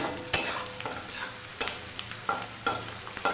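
Eight green chillies frying in a pan for masala pasta, with a continuous close sizzle and periodic sharp scraping strokes of a spatula roughly every half second to second.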